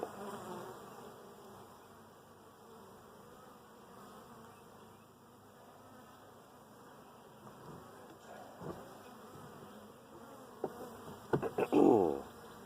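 Honeybees hum around comb-covered hive frames in a steady, low drone, with a few louder close passes and handling knocks near the end.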